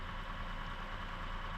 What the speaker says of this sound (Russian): Очень приятный выхлоп у него, японская стоит у него такая вот сдвоенный выхлоп.